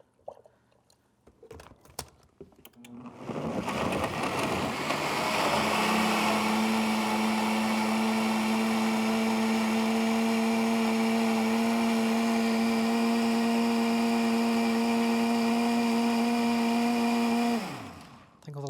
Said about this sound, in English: So we'll blend that.